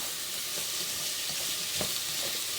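Vegetables for a vegetarian Bolognese fry in a pan with a steady, close sizzle and a few soft stirring scrapes, with no voices.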